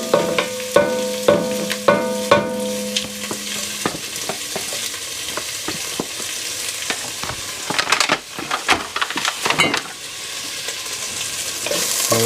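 Pork fat for carnitas sizzles and spits in a hot pot, loud dense frying crackle with scattered sharp pops and a few clanks of a utensil early on, close and unaccompanied by talk.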